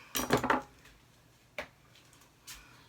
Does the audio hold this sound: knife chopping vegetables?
yes